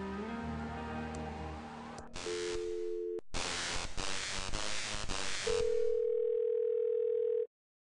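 A telephone in the video game Thimbleweed Park gives a steady dial tone, with a shorter earlier tone, bursts of static-like noise between them, and the long final tone stopping abruptly near the end.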